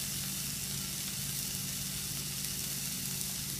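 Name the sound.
blewit mushrooms sizzling while sautéing in oil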